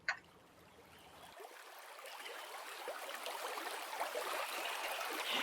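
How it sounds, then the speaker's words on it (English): Water rushing over rocks in a stream, a soft continuous burble that swells gradually, faint and steady with no voices. "We hear water rushing over rocks in a stream"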